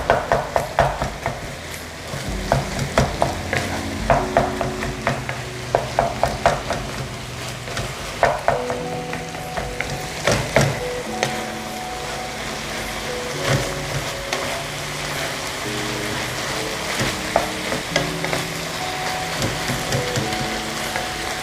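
Turkey, onions and red pepper sauté in a pan, giving a steady close sizzle broken by frequent sharp scrapes and clacks of a utensil stirring against the pan.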